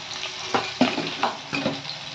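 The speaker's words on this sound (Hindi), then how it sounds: "तेजपत्ता, प्याज और कलंजी दे दिया है, उसे ब्राउन कर लेना है।" Bay leaves, chopped onion and nigella seeds sizzle steadily in hot oil in a pan, with several rhythmic scrapes and stirs of a spoon breaking through the continuous frying hiss, close and loud.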